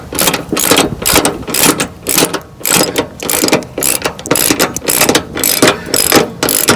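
A ratchet rapidly cranks bolts on a Yard Machines MTD 638RL mower deck, loud and close, in repeated bursts of fast pawl clicking separated by brief pauses as the handle swings back.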